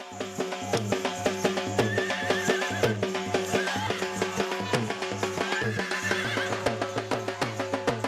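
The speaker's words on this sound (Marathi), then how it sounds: "अकलूजच्या घोडे बाजाराचं खास आकर्षण म्हणजे नाचणारे घोडेच असतात" At the Akluj horse market, where dancing horses are shown, horses neigh and whinny over loud rhythmic band music with steady drumbeats.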